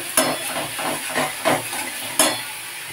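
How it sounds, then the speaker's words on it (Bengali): Turmeric, chilli powder and salt get stirred into frying tomato and onion, a steady hiss and sizzle broken by rhythmic scraping strokes of a spatula against the pan, with sharper clinks now and then. "এবার আমি হলুদ গুঁড়ো, লঙ্কা গুঁড়ো আর লবণটা দিয়ে দিলাম, দিয়ে এটাকে ওর সাথে মিশিয়ে নেব।"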